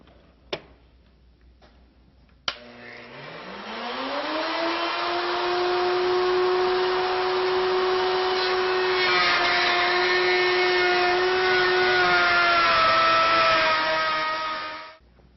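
A router bit cuts around the edge of a round MDF tabletop, starting with two sharp clicks, then spinning up to a loud, steady whine that holds for about ten seconds before stopping.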